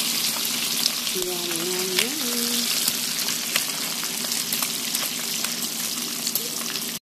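Bacon sizzles steadily in a frying pan for a home breakfast, a loud continuous crackle with small pops, while a voice speaks briefly over it.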